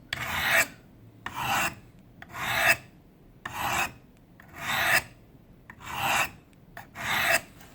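A Rowdy HiTech knife blade drawn across a sharpening stone in seven steady, evenly spaced rasping strokes, close and clear with no voices.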